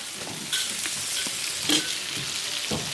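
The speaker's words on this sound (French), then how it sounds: "on va mélanger l'ail au gingembre alors" Garlic and ginger sizzle in a pot for a guinea fowl in red wine, a constant close frying hiss broken by several scraping stirs of a utensil, with no talk.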